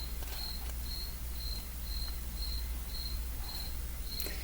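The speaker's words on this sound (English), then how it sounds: "If you hear a cricket, it's because we have one in our house right now" Repeated chirps from a single cricket indoors in a house, evenly spaced at about two per second, steady and fairly clear over a low hum.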